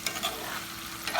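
Hamburger meat with vegetables frying in a pan, a continuous close sizzle with brief scraping stirs, alone with no talking.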